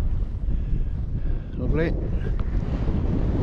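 Wind buffets the microphone on a hill in the Cheviots, a steady broadband rush holding through the clip, with a brief spoken word partway through.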